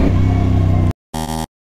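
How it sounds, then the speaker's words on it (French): A 2024 CFMOTO 450CL-C motorcycle engine revs loudly, close up, then cuts out abruptly, followed by a second short, buzzy burst of revving and a brief final blip. "On va se tester la souplesse du moteur."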